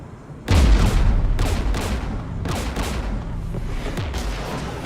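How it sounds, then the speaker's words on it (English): Gunfire in the Mass Effect video game: a loud boom and then repeated bursts of rapid shots, heavy volleys with short gaps between them that come in waves over a rumbling battle background. "We're taking fire."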